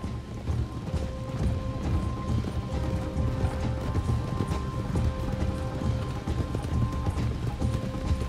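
Steady hoofbeats in Red Dead Redemption 2 clop along continuously at a brisk walking pace, backed by a constant ambient hum and faint mechanical tones, no voices.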